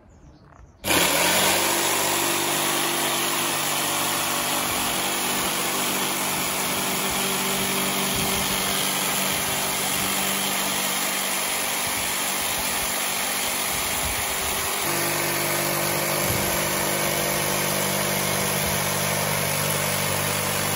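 A power tool runs continuously, cutting material to make a crest. It starts abruptly after a brief quiet moment, then holds a steady, loud mechanical whine and drone with a slight shift in pitch partway through and no voices.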